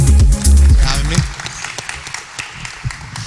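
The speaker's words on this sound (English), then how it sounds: "Give him a round of applause." Audience applause at a panel discussion on decentralized cloud technology in Austin, brief clapping mixed with speech, starting loud and fading within a few seconds.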